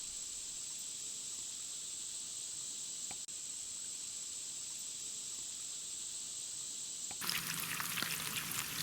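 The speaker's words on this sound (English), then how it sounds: "Matt loves cooking breakfast at camp" Breakfast frying on a camp stove at a campsite in Montauk State Park: a steady, even sizzle that holds for several seconds, then gives way to a rougher, louder crackle near the end. No voices.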